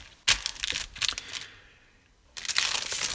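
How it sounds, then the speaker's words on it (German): Resealable plastic bags of parts from a 1:35 scale RFM Sturmtiger model kit being handled, giving short crinkling rustles and crackles close up, with a quiet pause between bursts. "Verklebbare Tüten."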